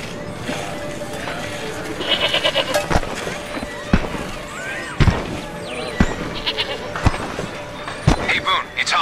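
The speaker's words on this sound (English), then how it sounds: "Damn goats eat through anything." Goats in the Homefront video game bleat repeatedly, several wavering cries scattered among sharp percussive knocks and game ambience, with voices talking alongside.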